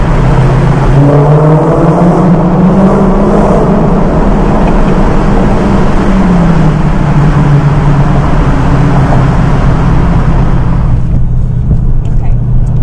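A Dodge Challenger Hellcat Redeye with its windows down drives through a tunnel, its engine roaring loud and steady with a quick downshift surge, echoing continuously throughout.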